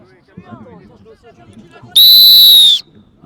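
A rugby referee's whistle at an under-16 match sounds in a single loud, sustained blast of nearly a second, close and piercing, cutting over players' shouting and field babble that continue before and after.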